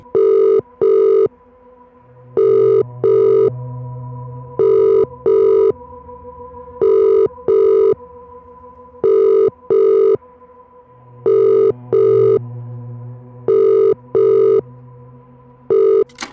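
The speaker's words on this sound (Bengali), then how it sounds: "হঠাৎই ফোনটা বেজে ওঠে।" A telephone rings loud and close in repeated double bursts, with a low steady hum underneath and no voices.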